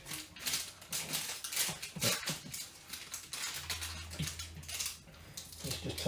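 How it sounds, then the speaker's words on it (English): A knife slices through Greek pasteli, sticky sesame and honey bars, making faint crunching and cracking cuts with scattered short taps, close and quiet, with no talking. "I'm going to probably cut these bars in half"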